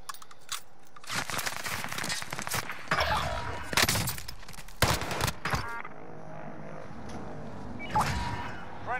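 Gunfire in Call of Duty: Modern Warfare, a cluster of loud, close bursts and cracks in quick succession, followed by quieter scattered shots and crunching debris as the firing fades.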